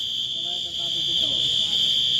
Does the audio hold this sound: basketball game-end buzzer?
yes